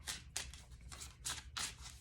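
Oracle cards, a Wisdom Chakra deck, are shuffled by hand in five quick riffling bursts that come close and crisp over two seconds, with no talking.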